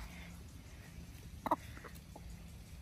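Backyard hens cluck in a brief close burst near the middle, with a few softer notes after it over quiet outdoor ambience.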